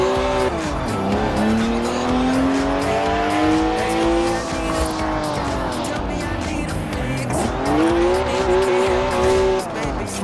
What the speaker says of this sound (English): It's a BMW, so of course it's rear-wheel drive. 50-50 weight distribution too. It's a natural-born drifter.